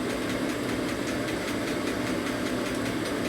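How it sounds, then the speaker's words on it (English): Engine of a 1972 Harley-Davidson XL Sportster Ironhead bobber loading down under strain, a loud steady low rumble with a dense rapid knocking pulse, continuous and close. "You can hear the motor loading down."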